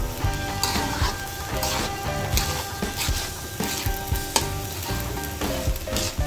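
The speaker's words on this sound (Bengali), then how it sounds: "চালটা যখন ভাজা হয়ে যাবে তখন এটা নাড়াচাড়া দিলে চালটা একবার পুরো পাতলা হবে" Broken rice grains dry-fry in a pan, crackling and rustling as they are stirred in a steady rhythm of scraping strokes, close and fairly loud.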